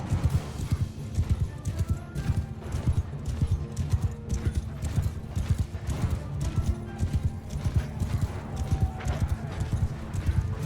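Horse hooves galloping in the Mount & Blade 2 Bannerlord video game, a steady rapid clip-clop that runs through the whole stretch, loud and close, with a brief whinny and faint voices in the background.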